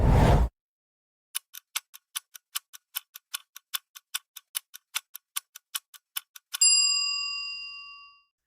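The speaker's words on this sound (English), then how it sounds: "a clock ticking for the loading bar" A steady series of about twenty crisp clock ticks, used as a loading-bar sound effect, follows a brief low burst and ends on a bright ringing bell chime that fades out slowly.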